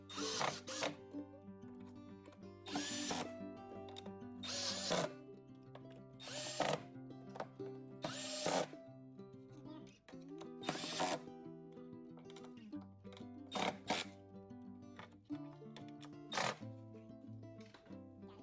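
Power drill driving screws into an LG washer/dryer panel, repeated short whirring bursts separated by pauses with quieter ratcheting and handling noise between, close up and alone.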